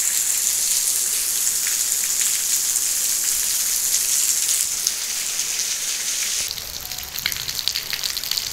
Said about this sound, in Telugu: చూడండి, వర్షం అయితే బాగానే వస్తుంది ఇలా.